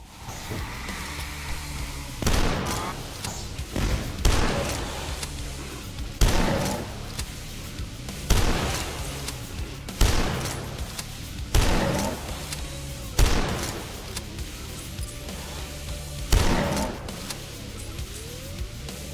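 A super shotgun in the retro shooter Dusk fires about eight heavy, booming blasts, roughly two seconds apart. Each shot is loud and close, with a short rumbling tail and scattered game noise between shots.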